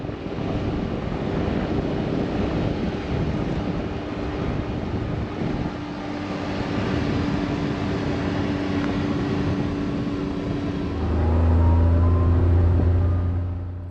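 An off-road vehicle rolls through sandy desert washes along the Peace Trail near Quartzsite, Arizona, with a steady engine rumble and buffeting wind throughout, swelling louder near the end.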